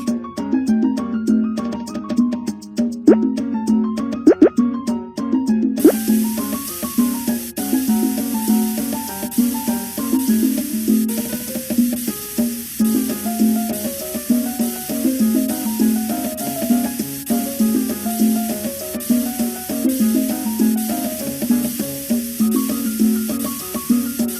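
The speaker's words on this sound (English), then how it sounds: "Spray the car with the color you like." A steady spray-paint hiss from a children's car-customizing game fills the background from a few seconds in, running continuously beneath upbeat game music with a bright melody.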